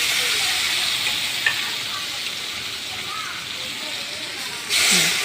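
Onion fried with ground paste for carrot rasam hisses and sizzles steadily in a pan nearby, with a voice talking faintly over the cooking.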